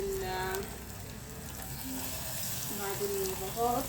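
Breaded chicken panne dropped into hot oil, a steady close crackling sizzle throughout, with a voice faintly audible in the background.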